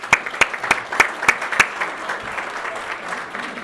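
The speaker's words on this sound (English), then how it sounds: "let's give them a round of applause" An audience at a family business awards event applauds steadily, with many hands clapping together and sharp individual claps standing out near the front, holding for nearly four seconds before easing off slightly.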